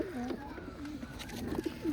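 Cooing of a sick pigeon at a gate, a high-flying old-bloodline Khulna bird: low throaty coos repeat through the two seconds, close and fairly soft against a quiet background.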